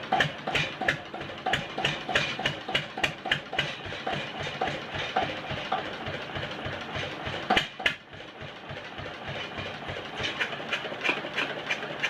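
A vintage Witte KD compression-ignition diesel engine running steadily, a loud, close, regular thumping beat with mechanical clatter that continues throughout with one brief stumble near the end.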